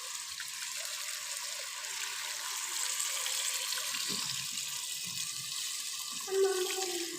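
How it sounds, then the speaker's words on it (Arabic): Water steadily poured into a pot of pumpkin soup, a quiet continuous splashing hiss with faint clinks of the pot. "غادي نديرو الماء."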